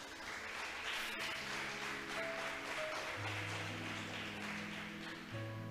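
A church congregation claps steadily and loudly for several seconds, a dense continuous applause with soft keyboard notes sounding underneath.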